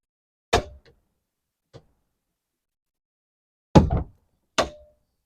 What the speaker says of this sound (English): That clicking noise you heard is the first set of rails locking in